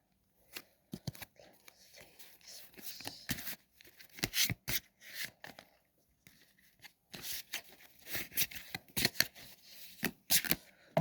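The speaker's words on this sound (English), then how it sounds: "Quick shuffle." A deck of Chakra Wisdom oracle cards is shuffled in quick, close, crisp riffles and slides, coming in uneven bursts broken by short pauses, with no talk over it.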